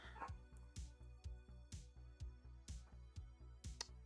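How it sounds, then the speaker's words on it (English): A dog barks in a steady run of about eight sharp, evenly spaced barks, fairly close, over a low continuous hum. "Yeah, my dog is barking."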